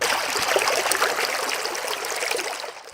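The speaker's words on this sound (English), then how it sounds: "A steady stream of cool lake water pours over rocks at Lake Itasca State Park in northern Minnesota." A steady stream of cool lake water pours over rocks at Lake Itasca State Park in northern Minnesota, the Mississippi's source. It makes a close, continuous, bubbling trickle and rush with no voices.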